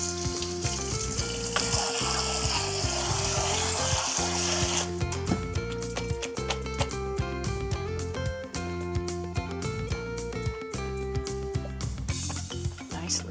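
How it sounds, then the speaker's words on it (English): Cold tap water runs steadily over salted, marinated cabbage in a colander, a continuous close splashing with shifting tone, mixed with a low background tune. "So we drain it first, and then we rinse it with some cold water."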